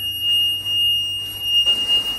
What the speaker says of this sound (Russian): А, это пожарка.